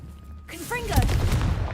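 A Confringo fire spell is cast in Hogwarts Legacy, a sudden booming blast with bright whooshing, crackling bursts that starts after a brief quiet and keeps rumbling loudly to the end.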